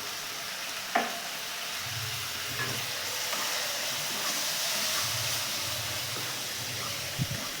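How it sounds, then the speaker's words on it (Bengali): Spice paste of Kashmiri chili powder, ground coriander and cumin cooks with a little water in a pan, giving a soft steady sizzle with light stirring and a couple of sharp utensil taps. "অল্প জল দিয়ে মশলাটা একটু কষে নেব।"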